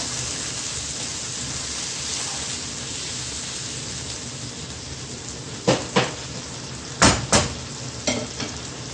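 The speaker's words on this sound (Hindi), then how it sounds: "थोड़ा पानी डाल दिया" Water poured into a pan of frying aloo palak masala with tomatoes, a steady sizzle throughout, then several sharp hissing bursts near the end as the liquid hits the hot oil.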